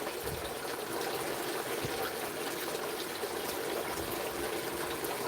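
Garden pond water trickles softly and steadily, a faint continuous splashing babble with no voices.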